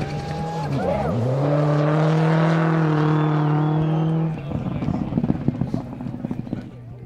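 A rally car roars past on a super special stage, its engine note climbing loud and close for several seconds before cutting off abruptly, followed by a crackling, popping exhaust and tire noise as it moves away.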